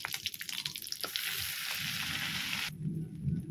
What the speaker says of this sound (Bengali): ঘিটা কিন্তু আমাদের গরম হয়ে গেছে এবারে বেসনটাকে দিয়ে দেবো